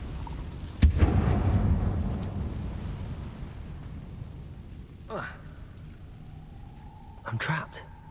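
A Confringo fire spell explodes in Hogwarts Legacy with one sharp, loud blast followed by a long rumbling decay. Two shorter crackling bursts follow later, over a low background.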